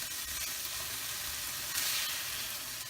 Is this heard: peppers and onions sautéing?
yes